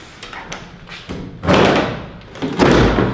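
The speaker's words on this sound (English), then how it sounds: "How long can Casey struggle with this door put together badly" The badly fitted door of a Lykan hypercar is forced, producing a few heavy close thuds and bangs with brief rattling between them, loud and abrupt.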